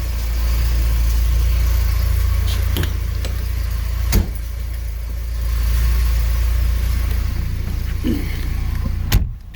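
A 1983 Porsche 944 engine idles steadily at close range, a low continuous hum under a few clicks and thumps from inside the car, with faint movement sounds and no clear speech.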